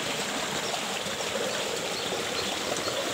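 A small mountain stream running over natural rocks at the foot of Gunung Sekorong, a steady close rushing and trickling wash of water with no voices.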